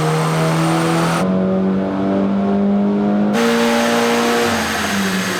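A Cupra K1 car on a dyno makes a power run on base wastegate boost, its engine droning loud and steady as the revs climb through gear steps, with no one speaking.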